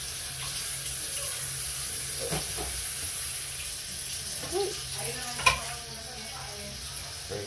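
Water streams from a tap into a sink during dishwashing, a steady close rush broken by a few clinks and splashes of handled dishes.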